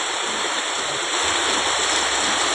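Dark, polluted water pours steadily along a stream clogged with trash, a continuous close rushing wash with no break and no voices.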